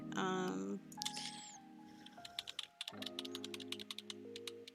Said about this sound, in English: You can hear all the clicking from when I use your hotkeys.